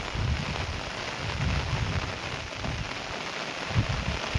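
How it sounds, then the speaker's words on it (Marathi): Heavy rain pours steadily onto a farm field in Maharashtra, a dense, continuous hiss of drops close to the microphone with occasional heavier patters. "पाऊस जोराचा आलाय"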